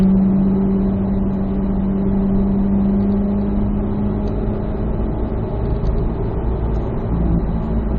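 A car engine drones loud and steady from inside the cabin on a race track, a sustained hum holding a fairly even pitch with a slight rise, and no voices.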